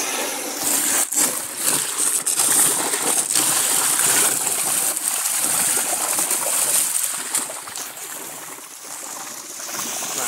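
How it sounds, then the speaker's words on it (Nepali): Water pours steadily out of a pipe in a Nepali village, a loud continuous rushing splash with broadband hiss that holds for the whole stretch and eases slightly near the end. "यो पाइपबाट लगिरहेको छ पानी"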